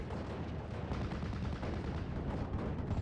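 Artillery barrage in a World War II strategy game: a dense, continuous roar of overlapping explosions and booms, loud and sustained with no pauses.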